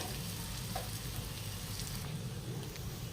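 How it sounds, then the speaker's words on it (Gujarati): Steady crackling sizzle of moth beans being tempered in hot oil, continuous and close, with no voices. "આ રીતે આપણે મઠનો વઘાર કરીએ"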